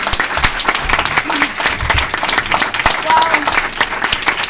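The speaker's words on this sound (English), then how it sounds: "I'd like everyone really to give her a sincere applause" Loud audience applause at a New York City political event, sustained clapping from a crowd that fills the room, with a speaker's voice coming in over it near the end.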